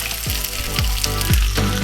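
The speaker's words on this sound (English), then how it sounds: "As the mustard seed has finished cracking, so now I will be adding 1 onion and also a sprig of curry leaves" Onion and a sprig of curry leaves sizzle hard in hot oil with popped mustard seeds for a bean sprout stir fry, a loud, steady crackle with a few soft stirring strokes on top and no voices.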